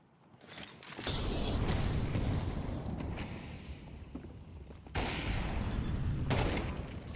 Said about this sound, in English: Beautiful shots here by Hot Soup.